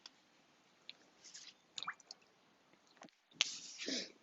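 Water splashes and drips as a face is rinsed from a bowl during a skincare routine, with scattered small splashes followed by a louder burst of sloshing near the end, close and alone.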